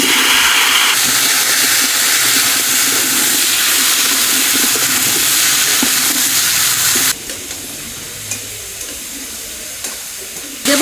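Young garden pumpkin goes into hot oil already used for frying fish and potatoes, and a loud, close, hissing sizzle fills the first seven seconds. It then drops to a softer, steady bubbling.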